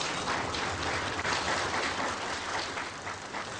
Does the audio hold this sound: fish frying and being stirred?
no